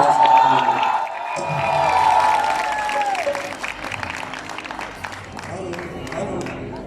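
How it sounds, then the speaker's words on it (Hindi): Audience applause at a college qawwali performance, loud clapping and cheering that swells and fades while a voice speaks over it through a sound system. "बहुत सारे तालियां हैं"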